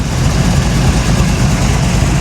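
A 500hp 1987 Chevy Monte Carlo SS engine idles, shaking noticeably, with a loud, steady, deep rumble that continues unbroken and close.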